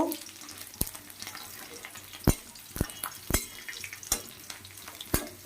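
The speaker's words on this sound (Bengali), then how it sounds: "রসুন এটাকে একটু ভেজে নেব" Garlic frying in a pan, a steady soft sizzle broken by sharp clacks of a spatula or spoon stirring against the pan at irregular intervals.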